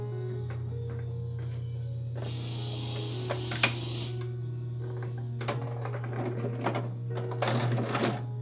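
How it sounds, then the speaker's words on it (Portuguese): Sewing machine stitching a seam along the edge of fabric, a steady low motor hum with rhythmic needle chatter, running in bursts with brief pauses. "Passar a costura agora na beiradinha"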